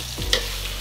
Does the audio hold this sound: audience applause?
no